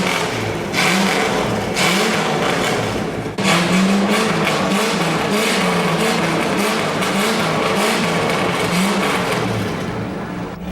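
A custom car engine on a Rolls-Royce build runs loudly and steadily up close, with a rough, throbbing rumble that surges briefly before settling into a continuous roar.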